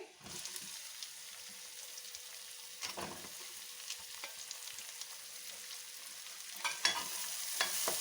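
Finely chopped onion frying in a pan for red sauce pasta, a steady soft sizzle with occasional stirring scrapes, close and fairly quiet, no talking.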